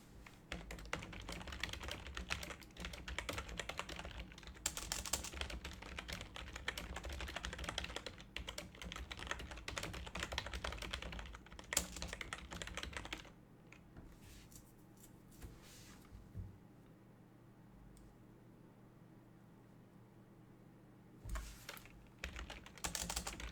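Steady clatter of typing on a computer keyboard during a Pillars of Eternity game stream, dense and fairly close for the first half, then thinning to sparse keystrokes over quieter background with a few brief bursts near the end.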